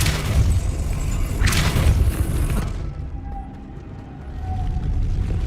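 The Depulso spell cast in Hogwarts Legacy lands as a loud forceful blast and booming burst that fades after a couple of seconds into quieter game ambience.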